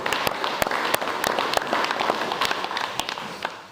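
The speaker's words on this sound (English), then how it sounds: "Round of applause, I reckon, for that" A modest audience at a volunteer forum in Broadford gives a round of applause, scattered close claps with distinct sharp hits over a softer clapping bed, fairly brief and evenly paced.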